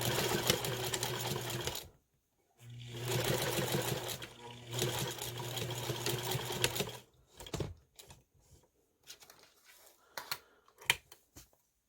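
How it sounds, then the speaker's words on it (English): A sewing machine stitches fabric panels down for a scrap-buster clutch, running in two long steady bursts before giving way to short stop-start stitches and clicks as the fabric is handled. "So I sew the panels down"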